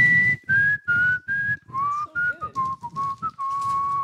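A person whistles a tune in short melodic phrases with brief gaps between them. The whistling is loud and close, with no speech over it.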